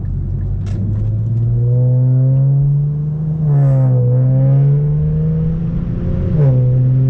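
Infiniti Q50 with the twin-turbo VR30DTT V6 and a Megan Racing Y-pipe, heard from outside, its exhaust holding a loud steady rumbling idle-rev and rising into a couple of deeper throttle blips.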